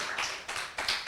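Children clap together in a short burst of applause, a dense patter of hand claps with no voices on top.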